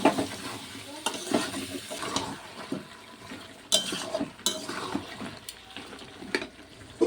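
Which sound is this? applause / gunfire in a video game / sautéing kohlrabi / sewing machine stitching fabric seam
sautéing kohlrabi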